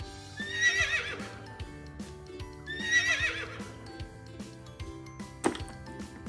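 A horse whinnies twice in shrill, shaky neighs against a steady rhythmic clip-clop of hooves and a sharp knock near the end, with no speech.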